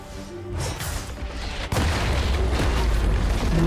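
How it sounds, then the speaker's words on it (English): A turret destroyed in League of Legends, with a deep booming crash and crumbling rumble that swells into a sustained loud blast amid ongoing game sounds. "Blue team's turret has been destroyed."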